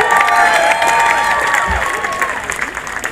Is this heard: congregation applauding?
yes